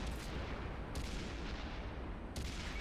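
Tank cannon fire in World of Tanks on the Pacific Island map, from the E-25 tank destroyer: a few sharp distant booms at spaced intervals over a steady low rumble of engine and battlefield noise.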